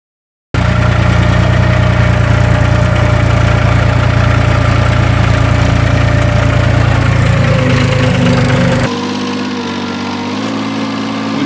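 A farm tractor used for cultivating cotton fires up after a brief silence and runs loud and close with a steady mechanical drone, then its engine note shifts lower and softer near the end.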